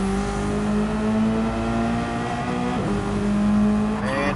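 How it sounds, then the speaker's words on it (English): A Subaru BRZ race car in a sim racing game at Abu Dhabi, its engine droning loud and steady. The note dips briefly as the driver lifts, then climbs sharply at the end as the revs rise again. "as JC Blaze there kicks out the rear of the BRZ"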